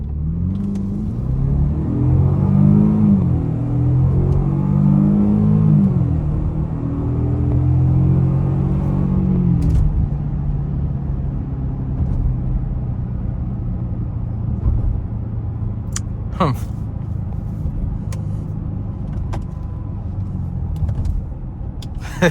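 A 2025 Jaguar F-PACE R-Dynamic S accelerates hard from 0 to 60, its engine revving up loudly through rising gears over the first ten seconds, then settling into a steady rumble as it cruises.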